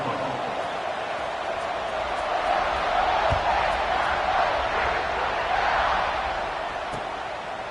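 A football stadium crowd roars steadily just before kickoff at a college game, a broad sustained cheer that swells and fades slightly over the span, with faint scattered shouts within.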